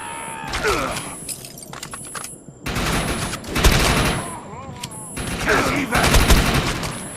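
Bursts of automatic gunfire fired at a reactor in the video game Defiance, coming in several loud clusters over about seven seconds, mixed with game effects and a few short electronic tones.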